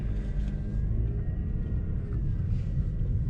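Mercedes-Benz C240 W203 engine running inside the car at night, a steady low rumbling idle drone with no talk over it.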